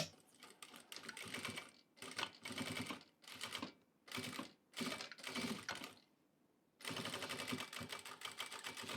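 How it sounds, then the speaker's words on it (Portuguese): A sewing machine stitches a fabric table runner in close, steady whirring bursts, stopping and starting several times with short pauses between runs. "Vamos lá para a máquina costurar"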